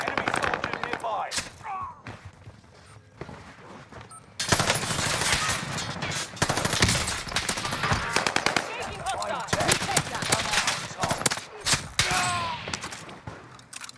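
Gunfire in Call of Duty Warzone on Rebirth Island rattles loud and close in dense automatic bursts and single shots, layered with game effects and busy background noise throughout.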